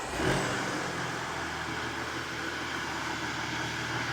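An Audi A4 diesel with exhaust tips taken from a petrol model revs once near the start, then settles into a steady, fairly quiet engine hum with exhaust rumble.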